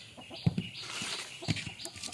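A few short clucks from native country chickens in a coop being opened in the morning, close by, sounding in two small bursts over a soft background hiss.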